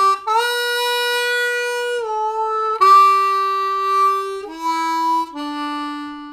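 A blues harmonica plays the slow melody of Amazing Grace, single sustained reedy notes with audible pitch bends sliding into several of them, close and clear with no talk.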